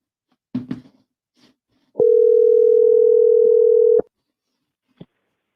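A telephone dial tone while placing a call: a steady, loud, unbroken tone lasting about two seconds, preceded by brief clicks and handling noise and followed by a short click.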